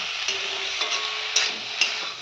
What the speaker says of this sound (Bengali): এই দেখো আমি একটু নাড়াচাড়া করে নিয়েছি